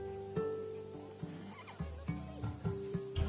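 A Macedonian warhorse bred for battle neighs and whinnies in Assassin's Creed Odyssey, giving several short, wavering calls against a humming game background.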